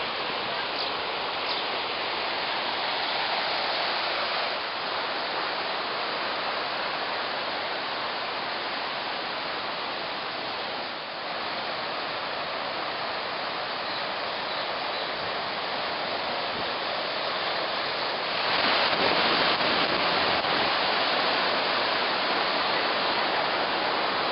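Niagara River rapids rushing above Niagara Falls make a dense, steady roar of churning water, loud and unbroken, swelling slightly near the end with no voices.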